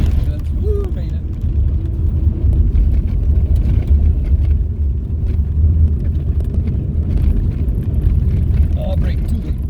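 A stock 2007 Subaru engine roars low and steady at full throttle on a grass course, a continuous heavy rumble heard from inside the car with occasional faint sounds over it.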